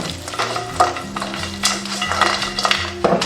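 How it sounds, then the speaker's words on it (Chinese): Pork ribs with garlic and seasonings stir-fried in a wok: a loud, close sizzle under repeated scraping and clinking of the spatula against the pan in an uneven tossing rhythm, with no talking. "把配料炒香"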